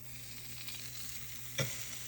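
A French toast bun sizzles steadily in a frying pan, a continuous close frying hiss with a sharper crackling burst near the end as it settles in the hot oil.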